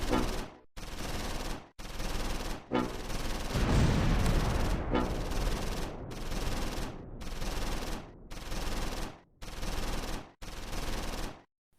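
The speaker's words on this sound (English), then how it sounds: "Skinner is taking fire in the church steeple and goes to ground." Gunfire aimed at a church steeple in Close Combat 4 during a World War II battle: repeated loud bursts of machine-gun fire, about ten separate volleys separated by brief silences, with a heavier boom mixed in midway.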